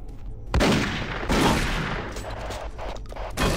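Enemy gunfire in Doom 3 on Xbox 360: loud, dense bursts of automatic shots in two close volleys that ring out and fade, with no talking.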